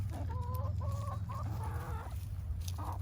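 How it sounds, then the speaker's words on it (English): Backyard chickens at a newly finished coop cluck in rising and falling calls while pecking at pizza and eggshells, up close over a low, steady background rumble. "The chickies are having some pizza and eggshells."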